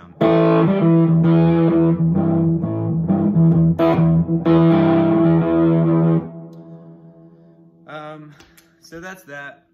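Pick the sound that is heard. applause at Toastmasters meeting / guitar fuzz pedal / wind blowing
guitar fuzz pedal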